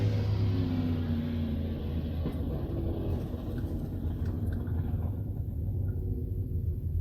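Dwarf race cars on the pace lap at I-76 Speedway during the 2023 Dwarf Car Nationals produce a steady, low engine rumble. The pack drones from a moderate distance, with an unbroken throaty growl throughout.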